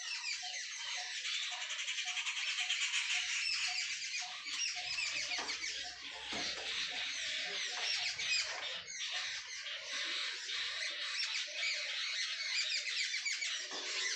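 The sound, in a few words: many birds calling together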